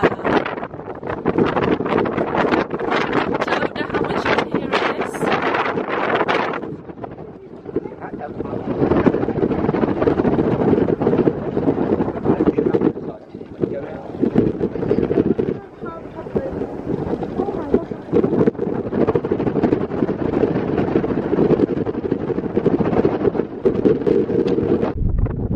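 Strong wind buffets the microphone on a boat ride in New York harbor, a loud continuous rumbling roar that eases briefly partway through, with occasional voices beneath it.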